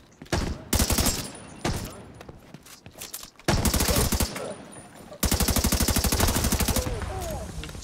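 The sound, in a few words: gunfight with machine gun fire in video game The Division 2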